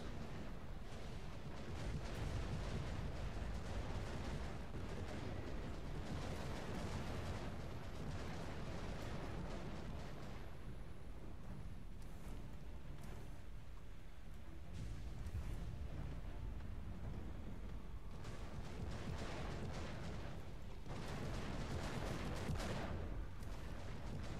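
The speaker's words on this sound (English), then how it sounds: "Grenades." Grenade explosions and gunfire in the Warhammer 40,000: Eternal Crusade video game, with loud, dense booms and blasts rumbling continuously and closely for the whole stretch.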